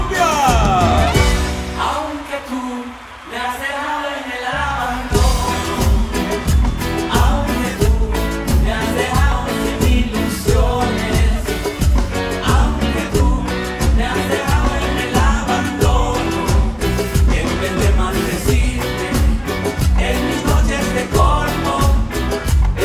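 A live band plays a son at a concert event, loud and full with steady rhythmic percussion, after a brief quieter opening moment.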